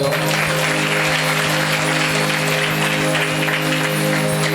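Steady applause from a church congregation at a Sunday healing and deliverance meeting fills the whole stretch, even and sustained, with a droning musical tone underneath.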